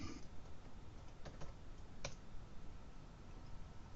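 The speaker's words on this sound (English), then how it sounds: "for our purposes today, we'll just type it in" Light clicks of typing on a computer keyboard as a login code is entered, a few sparse, faint taps scattered over steady room noise, with no voices.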